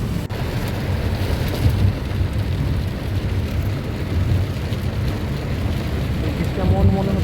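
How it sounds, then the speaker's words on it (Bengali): Steady rain falls during a car drive in a misty drizzle, a constant dense hiss and patter with low road rumble underneath, continuous and fairly loud throughout. "দেখো শুরু হয়ে গেল বৃষ্টি গাড়িটি চালানোর সময় এমন বৃষ্টি হলে যে চালায় তার তো একটু অসুবিধা হয়ই"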